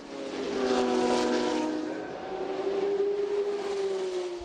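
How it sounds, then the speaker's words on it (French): Turbocharged racing car engines at the Le Mans Classic, including 1979 Porsche 936 and 935 racers, roar loudly past, swelling to a peak and then easing before a second engine note builds and holds, with no voices. "Ces 3 dernières années sont sous la domination des moteurs turbo, impressionnants par les flammes qu'ils crachent par l'échappement."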